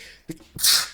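A single sneeze, a short in-breath followed by a loud, close, breathy burst lasting under a second.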